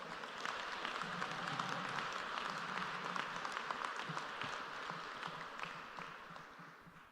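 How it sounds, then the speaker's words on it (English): An audience at a school campus ribbon-cutting ceremony applauds steadily, dense clapping that holds for several seconds before slowly fading, fairly faint and with no talk over it. "Y'all give my babies one more round of applause."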